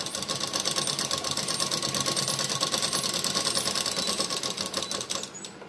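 A sewing machine runs steadily in a close, continuous stitching burst on blouse fabric for a princess-cut deep-neck blouse, its rapid needle rhythm even throughout before easing off at the very end.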